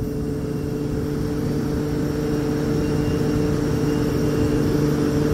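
A Ziehl-Abegg EC Blue fan motor running on test, a steady loud droning hum with strong low tonal whine and broadband air noise, continuous and close with no voices.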